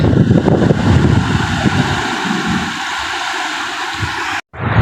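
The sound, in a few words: flooded Sani river water flowing after heavy rain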